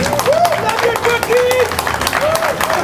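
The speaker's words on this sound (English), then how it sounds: "Mr. Craig Pike, round of applause, please." A crowd applauds with dense, continuous clapping while a voice speaks over it near the microphone.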